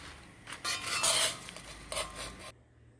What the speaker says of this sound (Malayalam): അപ്പോൾ നമ്മൾ ഇളക്കുമ്പോൾ മുളക് മേൽക്ക് വരികയാണ്, പരിപ്പും കടലയൊക്കെ പിന്നെ അടിയിൽ തന്നെ കെടുക്കുക